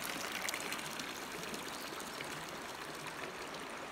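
Fresh water supply running through a black pipe into a tank, a steady soft trickling and splashing flow close by, continuous and fairly faint, with no voices.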